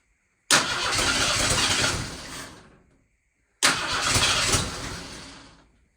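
Two long cranking attempts on a car engine with the choke in use, each a loud, rough churning burst of about two seconds that fades out, separated by a short silence, close by and with no voices.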